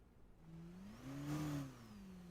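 A Fortnite video game car engine turns over and revs up, its tone rising to a peak and then settling into a steady idle hum.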